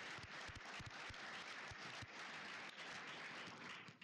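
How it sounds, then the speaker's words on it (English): An audience at a university business forum gives a speaker a round of applause, a continuous, fairly distant wash of clapping with scattered individual claps standing out, steady throughout. "go ahead and give him a round of applause."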